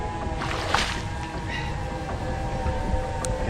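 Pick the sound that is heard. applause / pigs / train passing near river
train passing near river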